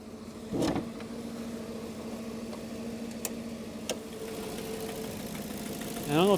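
A truck engine idles steadily with the hood up, a low continuous drone with a few sharp clicks and a light ticking that may come from a lifter, ending in a brief rising whine.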